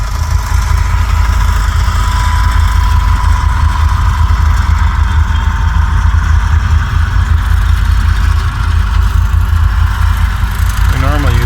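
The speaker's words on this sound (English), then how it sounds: "It's an IH tractor, 560 of course, and it's also an IH sickle mower." An IH 560 tractor with an IH sickle mower runs steadily at a loud, constant idle with a low rumbling drone and mechanical vibration throughout, without any break.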